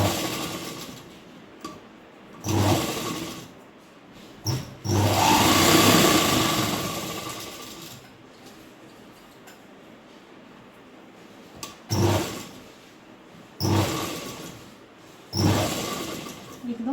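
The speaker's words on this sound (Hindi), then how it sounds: "हम इसके चारों तरफ ऐसे सिलाई लगा लेंगे।" Sewing machine stitching around a kurti neckline, running in several short bursts of whirring separated by pauses, fairly close and moderately quiet.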